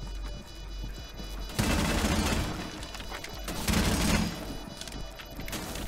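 Video game gunfire in a competitive shooter match: dense, loud bursts of rapid shots and crackling impacts that swell and fade over several seconds.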